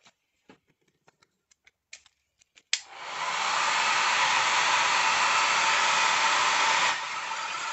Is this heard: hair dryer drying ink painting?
yes